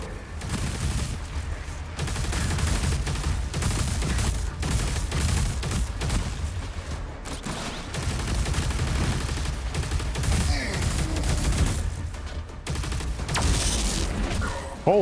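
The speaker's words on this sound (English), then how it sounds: "Plasma gun test in progress." Plasma gun fire in the game Doom: The Dark Ages, a loud, continuous barrage of rapid energy shots with booming blasts running almost unbroken for about fifteen seconds.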